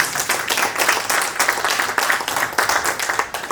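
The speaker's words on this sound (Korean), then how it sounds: "박수 한번 보내주십시오" Steady applause from a modest lecture audience, a rhythmic patter of clapping hands that holds throughout.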